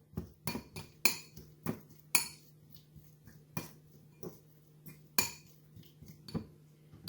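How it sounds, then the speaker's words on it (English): A fork mashes scooped-out sweet potato in a dish, giving a steady run of sharp metallic taps and scrapes against the bowl, close and fairly quiet, with no voices. "now I'm going to take this potato that I scooped out and mash it"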